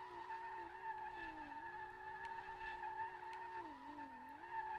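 Continuous tire squeal from a Nissan 240SX drifting in the SLRR racing game, a steady whining screech that bends in pitch with the slides, moderately quiet and without speech.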